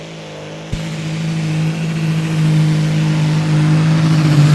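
A 4.5-ton Super Sport class pulling tractor at a 2023 European Championship tractor pulling event: after a sharp click the engine roars loud and continuous, its pitch climbing steadily.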